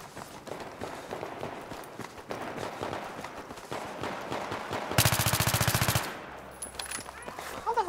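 Rapid automatic gunfire in Battlefield 3 during a Gun Master match on the Talah Market map: scattered shots and footsteps build to a dense, loud burst of rapid fire about five seconds in, then trail off.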